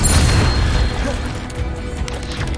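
Incendio fire spell blast in Hogwarts Legacy, a loud booming burst at the start that decays into crackling and rumbling, with a voice calling out over it.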